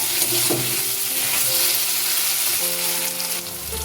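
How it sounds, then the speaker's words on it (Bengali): Potato being mixed with mustard and poppy seed paste in a pan, a close, continuous sizzle with scraping stirs and a few brief clinks, steady throughout with no talking. "সর্ষে পোস্তর পেস্টের সাথে আলুটা ভালো করে মিশিয়ে সামান্য পরিমাণ জল দিয়ে দিচ্ছি"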